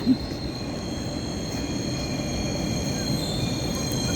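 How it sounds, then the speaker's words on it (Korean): A slow local train heading out toward the countryside runs steadily on the rails, a continuous rumbling roll with faint wheel squeal, close and even throughout with no voices. "이 기차는 완전히 저 시골로 가는"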